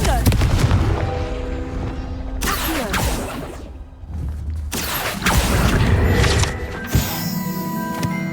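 Fire spell blasts in the game Hogwarts Legacy, loud booming bursts with crackling flame and whooshes, separated by a brief lull, with speech mixed in.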